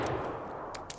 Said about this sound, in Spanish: Vale, estoy atrás de una cosa y me está disparando.